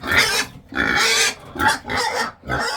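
Pigs in a farm pen grunt and squeal loudly and close by while waiting for food, in several bursts separated by short pauses.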